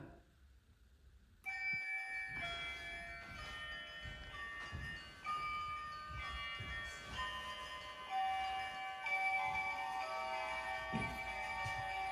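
Small bell on a children's toy, part of a private collection shown at the "Shchedryk Story" exhibition, chimes as it is touched, playing a bright, sustained run of tones over soft background noise.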